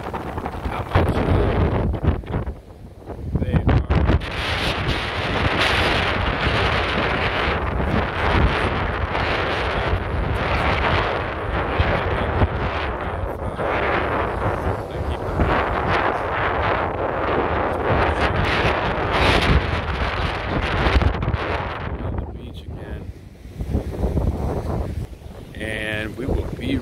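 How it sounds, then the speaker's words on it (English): Strong, gusty outdoor wind roars and buffets the microphone almost nonstop, loud and close, swelling and easing in waves with brief lulls. "it's real windy out today"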